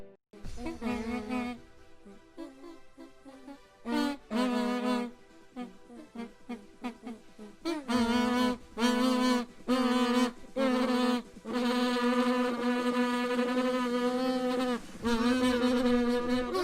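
A song played on a kazoo, a harsh buzzing melody in repeated bursts with brief gaps, loud and close like a swarm of angry bees, with no talking.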